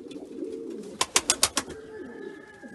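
Pigeons coo in a loft, a quick run of five sharp, loud pulses near the middle over a quieter low murmur of cooing and rustling, then a faint steady tone.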